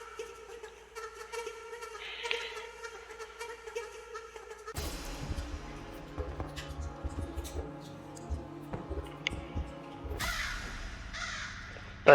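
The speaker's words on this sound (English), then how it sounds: "That's just crows." Crows caw repeatedly in The Stanley Parable, harsh calls scattered across the stretch, first against a quiet tonal backdrop and then over a busier, louder game soundscape.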